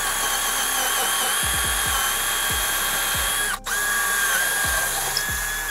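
A Bosch 12V installation drill fitted with a right angle attachment runs with a steady high-pitched whine, close and loud, and a dip in the motor sound partway through.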